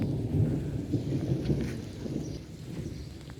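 Thunder rumbles from clouds during a sunny rain shower, a low, rolling and fairly distant roar. It swells and ebbs beneath a soft patter of rain with no talking.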